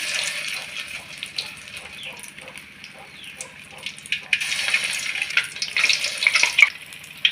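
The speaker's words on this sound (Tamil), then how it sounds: "எண்ணெய் சூடானதும் இப்படி உருண்டை பிடிச்சி போட்டுடலாம்" Meal maker balls fry in hot oil with a continuous hissing sizzle that grows louder and more crackly in the second half, with a few soft clinks.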